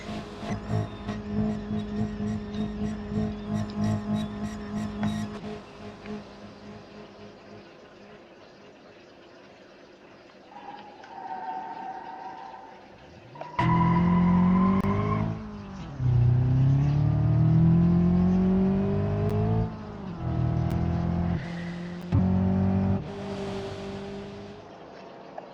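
A car engine revving and accelerating in a BeamNG.Drive police chase, rising in pitch through repeated surges and gear changes, loud and close, with a steady hum and occasional quiet speech early on.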